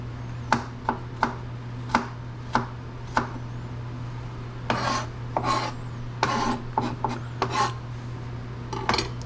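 A knife trims pieces of beef on a cutting board, with a series of sharp, evenly spaced chops up close, then a stretch of rougher scraping and cutting strokes.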